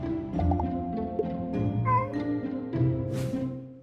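A cat meows several times at close range in a quiet indoor room, with drawn-out, wavering cries and a faint voice now and then in the background.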